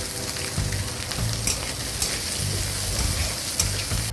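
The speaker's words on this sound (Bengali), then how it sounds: "পেঁয়াজ কুচি চিংড়ি মাছ একসঙ্গে ভেজে নিচ্ছি" Prawns and chopped onion frying together in a pan for a green mango stir-fry, giving a steady close sizzle with scattered crackles and faint stirring scrapes throughout.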